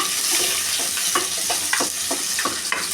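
Chopped red onions frying in a pan for egg fried rice, a loud, continuous sizzle with scattered stirring clicks and scrapes.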